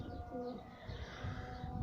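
Pigeons coo in soft, low, repeated calls from a rooftop flock, with steady outdoor ambience running underneath.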